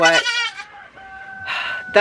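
A goat bleats in a few short, wavering cries, close and fairly loud, on a farm where the goats are kept for dairy.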